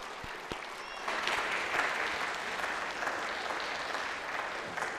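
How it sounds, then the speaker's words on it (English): Audience applause welcoming the incoming 2024 Oregon Kid Governor at an inauguration, a steady moderate clapping that swells after the first second and holds evenly to the end. "Please join me in welcoming her with a round of applause."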